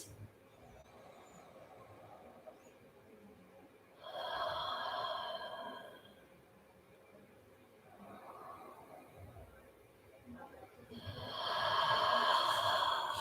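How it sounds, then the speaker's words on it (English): Slow, deep breaths taken during a yoga flow, three long airy swells of inhale and exhale rising and falling at an unhurried pace, fairly close and alone over a quiet room. "Big, deep, slow breaths."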